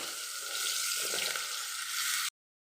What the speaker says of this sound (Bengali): কুমড়ো, পটল আর আলু দেখুন একটু মজে এসছে, একটু ভাজা হয়ে গেছে